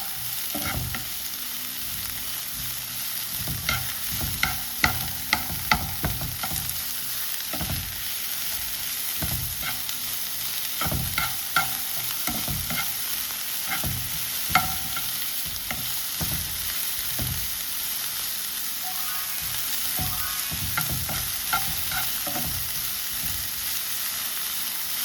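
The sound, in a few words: onions being sautéed in a pan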